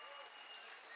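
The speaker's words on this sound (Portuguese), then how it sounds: "Por favor, aplauda o nome do Senhor Jesus." Church congregation applauding during a sermon, a steady wash of many hands clapping, dense and even, with voices mixed in.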